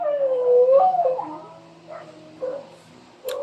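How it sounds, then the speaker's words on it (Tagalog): Dogs indoors let out a drawn-out whimpering howl followed by a few short yips and whines, close and fairly loud, with brief pauses between calls. "Patapusin nyo muna tumahol mga aso ko."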